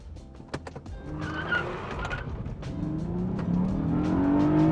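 A Honda car launching hard from a standstill, engine note rising steadily through the revs with a brief tire chirp early on, loud and close from inside the cabin, with no talking.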